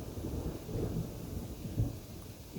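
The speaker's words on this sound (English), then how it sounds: "rain and thunder and lightning" Thunder rolls low and continuous under steady rain during a thunderstorm with warnings in effect, a dull rumble swelling slightly at moments, with no voices.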